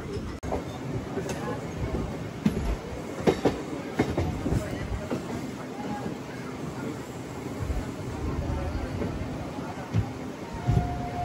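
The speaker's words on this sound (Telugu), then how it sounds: "ఏదో ట్రైన్ అయితే బయటకు వస్తుంది" A train moving out of Visakhapatnam Junction railway station, heard from aboard a MEMU train: a steady rumbling rail roar with scattered clanks and clicks of wheels over track joints, continuous and fairly close throughout.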